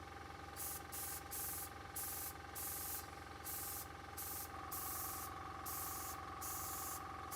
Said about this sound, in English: I'll move the airbrush so that any overspray is kind of being directed back into that petal.